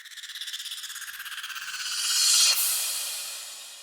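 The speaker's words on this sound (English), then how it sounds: "For the transitions, I used the very basic crash riser" Basic crash riser transition in a Drain Gang/Whitearmor-style beat: a pulsing, hissy noise swell that builds steadily in brightness and loudness, then peaks in a sharp crash-like burst that trails off, alone without voices.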